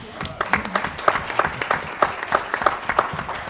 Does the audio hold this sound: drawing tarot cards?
no